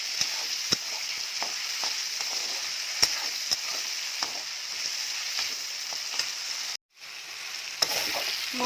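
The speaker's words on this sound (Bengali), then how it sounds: "একটু ভাজা ভাজা হোক" Potatoes and tomatoes fry with green chillies and spices in a pan, giving a steady, even sizzle broken by a few sharp stirring clicks and one brief silent gap near the end.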